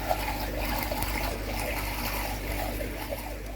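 Pond pump running in cold weather with water trickling steadily, a continuous close splashing wash over low hum, with no talk.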